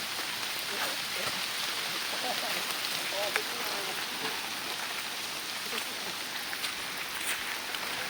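Heavy rain hammers down in a forest as a dense, unbroken roar of drops on leaves and ground, steady and close throughout with scattered louder drips.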